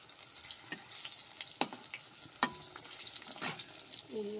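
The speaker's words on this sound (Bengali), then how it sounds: "আর এদিকে আমি পটল ভাজা বসিয়ে দিয়েছি।" Pointed gourd fries in a pan with a soft hiss in the background, broken by several sharp clinks and scrapes of a spatula stirring at irregular intervals; no speech.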